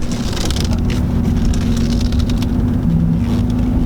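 A car running without a power steering pump, its engine revving at steady raised RPM with a constant low hum throughout, close and moderately loud with no talking.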